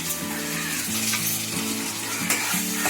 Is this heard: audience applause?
no